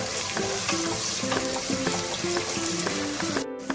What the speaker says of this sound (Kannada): ಈರುಳ್ಳಿ ಹಾಕ್ತಾ ಇದ್ದೀನಿ. ಕೆಂಪು ಬಣ್ಣ ಬರೋವರೆಗೂ ಸ್ವಲ್ಪ ಚೆನ್ನಾಗಿ ಫ್ರೈ ಮಾಡ್ಕೊಳ್ಳಿ